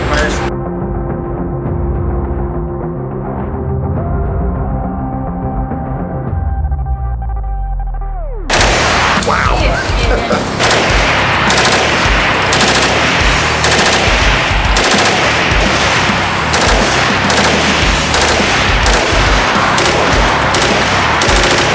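Guns fire in rapid automatic bursts, loud and continuous, after a stretch of tonal, droning sound at the start.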